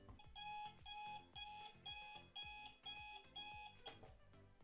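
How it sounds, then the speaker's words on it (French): A deliberately grating alarm clock rings in a repeated pattern of bright beeping bursts separated by short gaps, about eight pulses, loud and alone with no talking. "ce réveil là a une sonnerie tellement insupportable que tu es obligé de te lever en fait pour l'éteindre"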